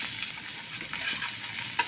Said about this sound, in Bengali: তেলের মধ্যে আমি পেঁয়াজটা দিয়ে দেবো